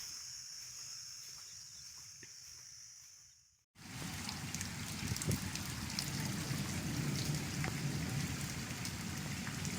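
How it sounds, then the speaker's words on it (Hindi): Heavy rain from a strong storm in Punjab pours down in a dense, steady roar, swelling suddenly after a brief quieter moment, with no voices present. "बहुत ज़्यादा बारिश हो रही है"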